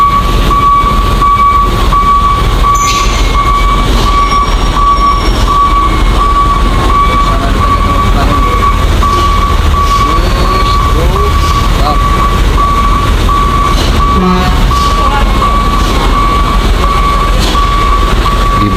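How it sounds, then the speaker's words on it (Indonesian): A queue of large trucks grinding up a steep road on a Sumatra highway, a loud, continuous rumble of labouring heavy engines with a faint steady whine above it, close and unbroken throughout. "Di bawah juga antrian truk-truk yang berukuran besar untuk bisa melewati tanjakan ini"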